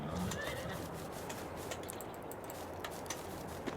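A horse in the Farming Simulator 22 farming game whinnies while its hooves clip-clop steadily beneath it, all at a moderate, even level throughout.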